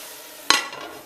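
A metal lid clanks down once onto a pot of stewing pork, a sharp single knock that trails off into a soft simmering hiss.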